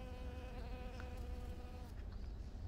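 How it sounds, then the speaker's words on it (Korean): Honeybees swarming over purple hydrangea blooms in a countryside garden, a steady droning hum of many wings close by, continuous and moderately loud with no talking. "수국 보라색에 꿀벌들이 쫙 앉아 있네요"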